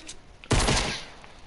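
A single loud gunshot burst from the video game Fortnite lands up close, then fades over about a second, with faint background sounds before it and no talk.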